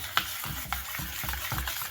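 Spiced yogurt with chat masala and sugar being stirred for dahi vada, giving soft, repeated scraping swirls about every half second, close and fairly quiet, with no talk.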